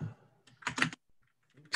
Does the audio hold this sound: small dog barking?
no